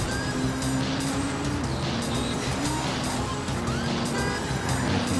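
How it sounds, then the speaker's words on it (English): Car engine in the Trackmania Turbo video game whining steadily while the car slides around on a dirt track, with shifting engine tones and tire noise throughout, loud and continuous. "Car sliding round on there, it's not good on the dirt."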